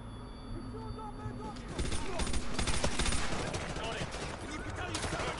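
Modern Warfare 2 campaign gunfights crackle as dense, continuous automatic fire and scattered shots, a busy wash of battle noise that swells slightly in the middle and stays loud throughout.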